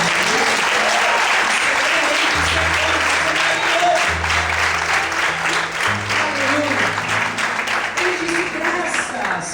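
A church congregation applauds steadily throughout, a dense wash of many hands clapping at close range, with low sustained musical tones entering partway through beneath the applause.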